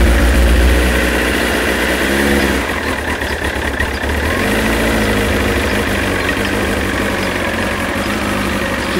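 Motorcycle engine idling steadily after being started with the fuel tap turned on, a loud, close, continuous low rumble with a slight change in pitch early on.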